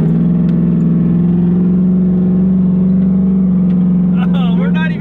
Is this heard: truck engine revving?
yes